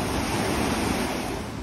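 A strongly flowing river in the Scottish Highlands, too fast to cross, pours out a steady, loud broadband rush of water that holds unbroken and close for the whole stretch.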